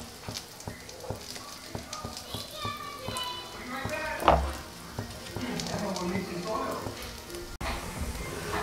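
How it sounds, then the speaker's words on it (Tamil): A cutlet sizzles and fries in a pan over a medium flame, a steady crackling hiss running throughout with occasional louder pops and a sharp clatter near the middle, while a voice talks over it. "நல்ல மீடியம் ஃப்ளேம்ல வச்சிட்டு ஃப்ரை பண்ணி எடுத்தா சூப்பரா இருக்கும்."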